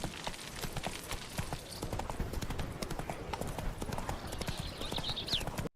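Horse hooves gallop in the Witcher 3 video game, a fast, steady clip-clop of many close, crisp strikes running throughout, with a brief whinny near the end before it cuts off.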